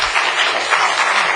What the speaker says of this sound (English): I would appreciate it if you would kindly refrain from applauding or booing.